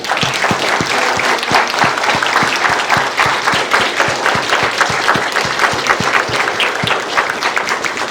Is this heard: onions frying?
no